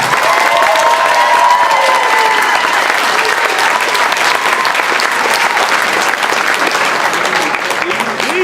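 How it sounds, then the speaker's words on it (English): Loud, sustained audience applause with some crowd cheering, dense and continuous for several seconds, with voices mixed in. "let's give a round of applause for Mr. Brown, the Executive Director."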